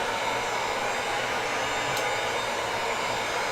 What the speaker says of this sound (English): You have to use a heat gun.